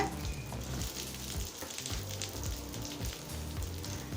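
Curry leaves sautéing lightly in oil in a pan, a soft continuous crackling sizzle heard up close and fairly quiet, with no voices.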